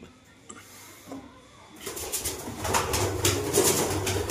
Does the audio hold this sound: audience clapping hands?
no